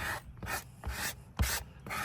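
Squeegee rubbed over a vinyl decal on a pickup truck's sliding glass rear window, giving soft rhythmic rasping strokes about four times in two seconds, close and quiet.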